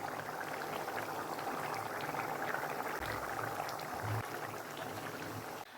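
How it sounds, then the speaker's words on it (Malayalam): Kerala-style prawn roast curry, with water added, boiling in a pan: continuous dense bubbling and popping close up, with a few soft low thumps and no talking. "വെള്ളവും ചേർത്തിട്ടുണ്ട്. ഇനി ഇത് നല്ല രീതിയിലൊന്ന് തിളച്ച് പറ്റി വരട്ടെ."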